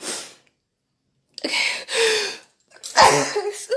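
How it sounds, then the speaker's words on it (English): After a short silence a person sneezes loudly and close by, with a sharp intake of breath before the explosive burst. "I got to sneeze."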